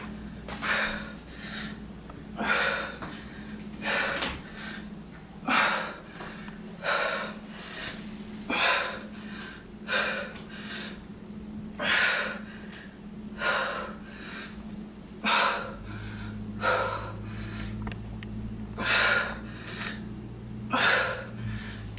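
Heavy, rhythmic breathing during a full-body workout, with sharp forceful breaths about once per second alongside a steady low hum throughout.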